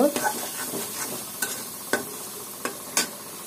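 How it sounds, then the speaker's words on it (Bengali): Loitta dried fish with chili powder being stir-fried in a pan gives off a steady soft sizzle, broken by sharp scraping clicks of the spatula every half second or so, close and fairly quiet, with no talking. "সবগুলো একসাথে দিয়ে খুব ভালোভাবে কষিয়ে নিতে হবে শুটকির ঘ্রাণটা বের হওয়ার আগ পর্যন্ত"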